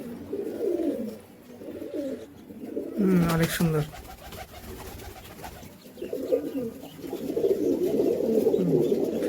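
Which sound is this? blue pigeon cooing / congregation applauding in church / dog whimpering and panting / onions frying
blue pigeon cooing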